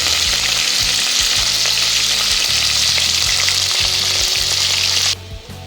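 Capsicum, onion and curry leaves frying in a tempering with cashews and spices for tomato pulao, a loud, close, continuous sizzle with stirring that drops off sharply at the end.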